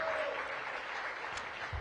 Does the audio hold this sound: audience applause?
yes